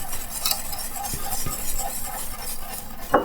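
Butter sizzles in a pan while a utensil stirs and scrapes through it, a continuous crackle with short clinks close by and no talking.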